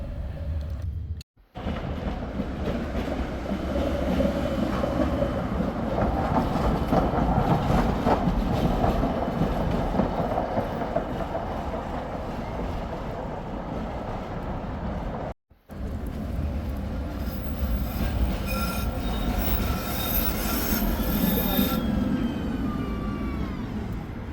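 A subway train runs steadily with a loud, continuous rumble and rolling wheel noise. High-pitched wheel squeals rise near the end, with two brief dropouts along the way.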